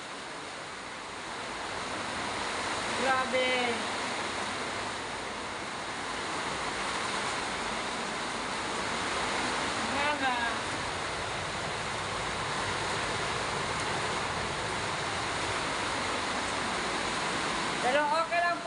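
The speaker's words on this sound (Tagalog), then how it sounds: "Sobrang lakas po ng ulan at walang tigil ang ulan." Heavy, unrelenting rain from Typhoon Kristine roars as a steady, dense hiss of downpour throughout, with a person briefly speaking over it.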